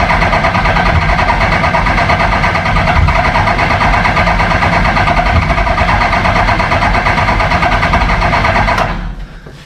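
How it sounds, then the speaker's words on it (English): Race-prepared Mini engine with a freshly replaced cylinder head cranked over by the starter without firing to prime fuel and build oil pressure, a loud steady churning drone for about nine seconds that cuts off abruptly near the end. "I'm just going to prime the fuel, so we'll turn it over without starting it"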